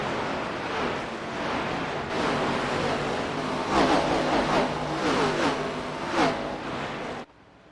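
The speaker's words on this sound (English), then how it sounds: "He waves it, and we're back racing at Bristol Motor Speedway" Stock cars racing at Bristol Motor Speedway during a Thursday Night Thunder semi-final after a restart, a dense wash of roaring engines and rushing noise heard from a distance, with swells as the pack passes.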